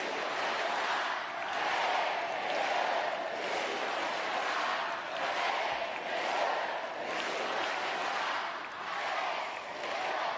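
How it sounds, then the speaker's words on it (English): A French crowd at a wheelchair tennis match in Suzanne Lenglen Stadium chants in rhythmic waves. Loud, full cheering rises and falls in a steady pulse about every second. "French crowd"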